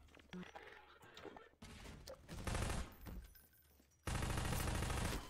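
Enemy gunfire in the first-person shooter Half-Life 2, dense bursts of rapid shots in clustered volleys, loud and close, with brief quieter gaps between the heavy strafing.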